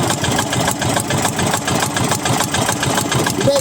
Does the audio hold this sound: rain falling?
no